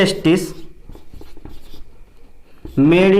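Chalk or marker writing on a board in a class lesson, a few short scratchy strokes between bursts of someone talking at the start and end.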